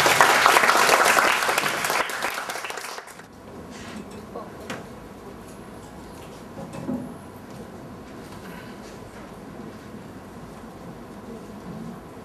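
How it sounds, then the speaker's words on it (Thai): Applause for a speaker at a university communication arts seminar in Thonburi, a loud burst of clapping from the audience that cuts off after about three seconds, leaving a quiet room with faint scattered knocks and movement. "ขอเรียนเชิญทุกท่านได้โปรดให้เกียรติแก่วิทยากรด้วยการปรบมือด้วยครับ"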